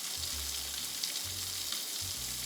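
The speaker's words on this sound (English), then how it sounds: "And then you just gently place that into the frying pan there." Lamb and haggis kebabs sizzle steadily in a dry frying pan, a close, continuous crackling hiss with no voices, broken by a few faint low knocks as the pan shifts.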